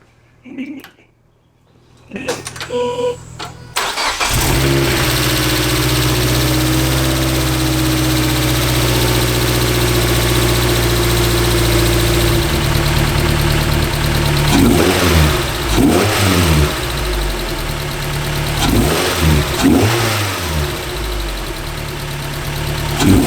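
A Mazda Miata NC fitted with an AutoExe intake idles, then revs repeatedly in sharp rising and falling bursts, loud and close, with intake induction noise over the engine note.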